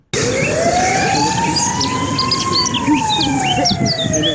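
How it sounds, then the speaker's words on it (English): An ambulance siren wails steadily with a slowly rising and falling tone, heard from a distance over a background of chirping birds. "it sounds like the ambulance sound"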